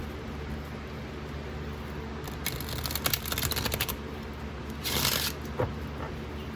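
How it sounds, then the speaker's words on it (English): Tarot cards are shuffled by hand in quick, soft, papery bursts of riffling and sliding, close up and alone in a quiet room. "I'm just doing a quick shuffle here and there."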